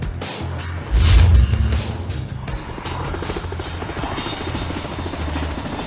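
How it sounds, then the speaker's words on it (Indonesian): Helicopter belonging to a wealthy family flying overhead, giving a loud, steady rotor throb with dense rhythmic chopping that swells sharply near the start and then holds at a constant level. "Helikopter di depan milik keluarga Sarding Xiao"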